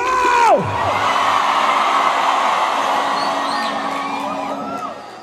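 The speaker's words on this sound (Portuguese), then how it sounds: "Vamos adorar, cantar bem alto, vamos celebrar, gritar bem alto" A large crowd at a worship conference roars and shouts loudly together in a sustained, dense wall of voices that swells and then slowly fades, with a falling whistle-like tone at the start.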